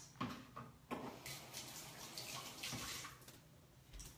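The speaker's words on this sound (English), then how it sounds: "I'm gonna wash my hands" A tap runs in a kitchen sink while hands are washed under it, a soft close splashing and water rush with brief irregular surges, fairly quiet and with no talking.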